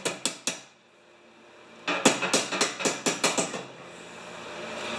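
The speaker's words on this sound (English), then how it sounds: "One more ball peen hammer adjustment." A ball peen hammer strikes a metal part on an old snow blower, two quick ringing blows followed by a rapid run of about ten evenly spaced metallic taps, close and clear with no talking.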